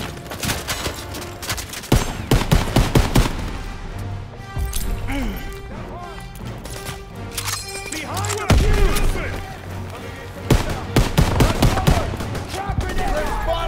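Dense World War II gunfire in Call of Duty: WWII, with rapid rifle and machine-gun bursts, scattered crashes and explosions, loud and continuous, and a voice talking over parts of it.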